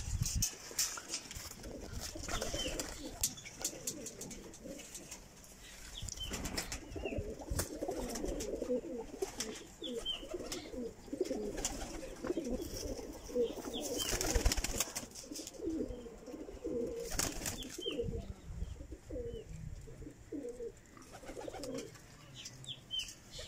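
Pigeons coo softly and repeatedly, several birds murmuring close by with low rolling calls, occasional wing flutters and faint chirps in the background.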